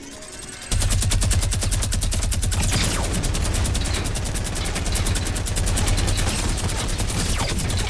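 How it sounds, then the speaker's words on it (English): Minigun in the video game Fortnite firing one long, loud continuous burst of rapid gunfire that starts abruptly and keeps going without a break. "I'm about to take this minigun up"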